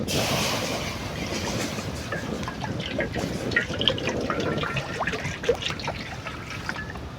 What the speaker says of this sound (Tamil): தண்ணியை ஊற்றிப்போம்.